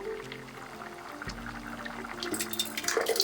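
Thick homemade apple butter pours through a funnel into a jar in a kitchen, a soft, steady trickling and glugging close by with faint clinks, no talking.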